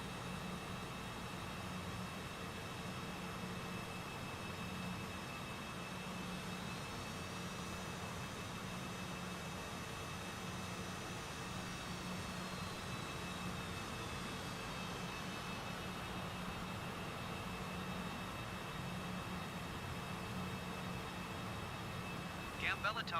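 Cessna taking off in the flight sim game Tailstrike, a steady engine drone holding at the same loudness throughout, with a faint rising whine partway through and a brief click at the very end.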